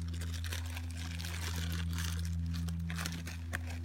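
Parcel packaging is crinkled and rustled as a box is opened, with soft irregular crackles and scrapes close by over a constant low hum.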